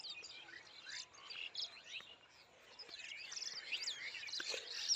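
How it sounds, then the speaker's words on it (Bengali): Many small birds chirp and twitter across an open vegetable field of cauliflower, beans and potatoes, a faint, dense chorus of overlapping high calls with distant insect buzz. "আর কত পাখি কিচিরমিচির করতেছে"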